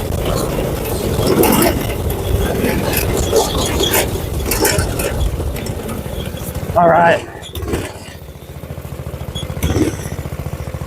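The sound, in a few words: Predator 212cc go-kart engine running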